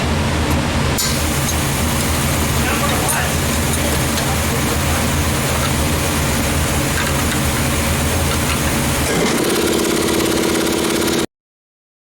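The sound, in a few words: compressor running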